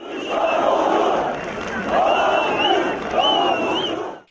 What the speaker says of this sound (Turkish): binlerce partil tarafından alkış ve sloganlarla karşılandı